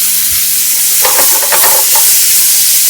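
Butter sizzles and spits loudly in a pan sauce for seared scallops seasoned with salt and pepper. A steady, close frying hiss carries a few stirring scrapes in the middle, and nobody speaks.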